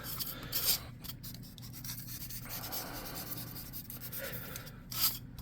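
Foam terrain slopes for a swamp tabletop model being smoothed by hand, a close, continuous scratchy rubbing and rasping with brief pauses and a few louder strokes.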